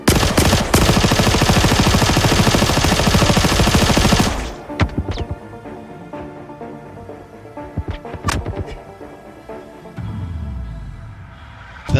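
Gunfire in a fight with pirates in the video game Star Citizen: a loud, dense machine-gun burst for about four seconds, then scattered sharp single shots and thuds.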